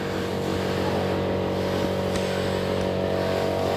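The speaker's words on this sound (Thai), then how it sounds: "นี่เราเบิ้งรถ" A vehicle engine running close by, producing a steady, loud humming drone with strong low tones and a slight rise in revs, continuous throughout.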